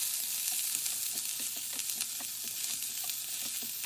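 Onion and garlic sizzle and fry in oil in a saucepan, a steady close crackle with scattered pops throughout and no talk.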